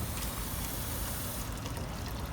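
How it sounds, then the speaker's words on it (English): Gentle stream of sink tap water runs over a hot metal dental flask, a soft continuous splashing trickle at moderate distance with no voices. "Just a gentle stream of water"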